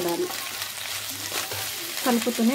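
Pasta with egg being stirred in a frying pan, a steady close sizzle with stirring scrapes throughout, while a voice talks softly underneath near the end.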